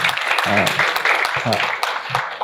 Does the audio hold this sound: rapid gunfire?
no